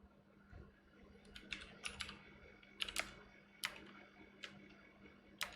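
Irregular clicks and clacks of typing on a faulty computer keyboard, close and fairly quiet, with bursts of keystrokes separated by short pauses over a steady low hum.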